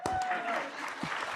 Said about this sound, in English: Yes, you can clap for that one too.